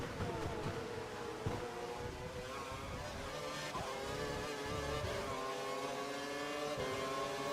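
Formula 1 race car engine at full revs in the F1 2012 game, a steady high-pitched whining drone with shifting harmonic tones, sustained throughout at moderate loudness.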